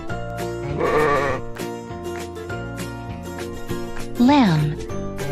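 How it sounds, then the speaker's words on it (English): A sheep bleats twice over a busy backing of cartoon-style music, the second call louder with a wavering, quavering tone. "Sheep"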